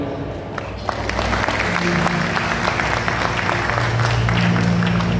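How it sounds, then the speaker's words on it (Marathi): A live audience at a Marathi shahiri folk music performance bursts into sustained, loud applause that builds and holds, with a voice faintly audible underneath. "सगळ्यांच्या टाळ्या होऊ द्या."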